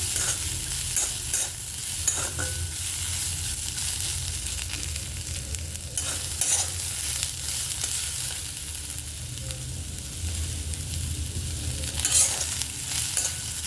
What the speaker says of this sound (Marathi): हे पण थोडंसं फ्राय करून घ्यायचं आपल्याला अद्रक लसूण कोथिंबीरच्या काड्या